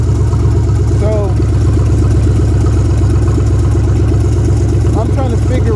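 A Ford Maverick with a swapped 302 EFI V8 idles loudly and steadily with a low throbbing rumble, while someone talks over it throughout.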